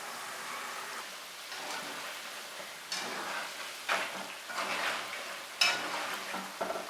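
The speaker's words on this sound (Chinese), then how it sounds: "锅中多来点油，油温5成热，下入土豆云吞，中小火慢炸" Potato and cheese wontons deep-frying in plenty of medium-hot oil over medium-low heat, a soft steady bubbling hiss with a few louder crackling bursts and stirring scrapes, close up with no voices.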